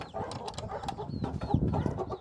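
Roosters and hens on a farm cluck and squawk in short, repeated calls at close range, with several birds calling over one another while one chases another.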